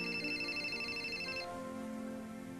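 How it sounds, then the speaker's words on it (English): A cell phone ringtone trills in repeated electronic pulses, then the tone shifts to a lower sustained melody, heard fairly quietly indoors with no talk over it. "Must be your cell phone."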